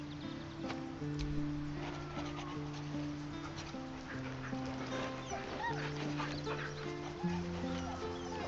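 In Baldur's Gate 3, a dog's yips and whimpers rise faintly over a steady bed of game music and ambience, with no talk.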